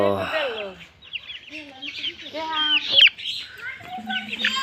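Several young fighter chicken chicks cluck and chirp in quick repeated calls close to the listener, with brief human voice sounds mixed in.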